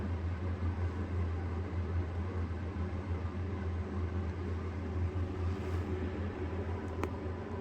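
An Italian-made Sial fan heater runs steadily, its broadband airy whoosh and low hum continuous and close, with no pauses or voices.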